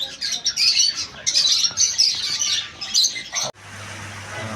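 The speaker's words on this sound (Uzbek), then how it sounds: "To'tilarni bitta ko'rib qo'ying, to'tilarni." Many parrots at a market chatter and squawk together in a dense, loud, close chorus of shrill calls and chirps, cutting off abruptly to a quieter background hum near the end.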